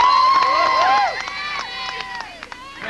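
A large crowd cheers and shouts at an airport to welcome home a returning gold medalist, a loud burst of raised voices that drops to scattered calls after about a second.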